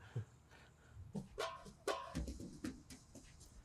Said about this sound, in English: Neighborhood dog. Get him!